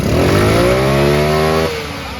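A motorcycle engine revs steadily with a rising, strained pitch, then the throttle eases off near the end and the tone drops to a lower idle.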